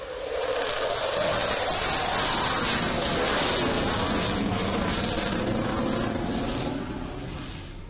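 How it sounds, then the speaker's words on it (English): A Dassault Rafale delta-wing fighter jet flies at a large air show in Bengaluru, India. A loud, steady, broadband jet roar fills the air for several seconds and then begins to fade, with no voices over it. "taking to the skies shortly will be the Dassault Rafale"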